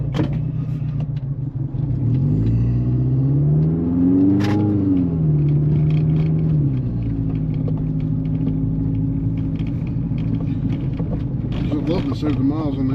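A rough-idling car engine, close and steady, with an uneven low rumble and one brief rise in revs partway through, while someone talks over it for much of the time.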